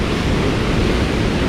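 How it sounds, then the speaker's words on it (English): Heavy ocean surf roars against a rocky outcrop on a rough day at Cilacap, Indonesia, a dense, steady wash of rushing water that stays loud and unbroken throughout, with no voices. "a rocky outcrop with like the crazy ocean roaring in today"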